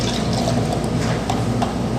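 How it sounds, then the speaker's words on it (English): Soapy water pours back into a milk pitcher, a continuous close liquid gurgle and splash with slight rhythmic sloshing. "Let's put the soapy water back in the pitcher."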